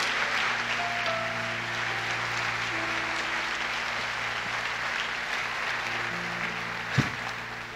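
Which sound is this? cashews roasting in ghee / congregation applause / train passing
congregation applause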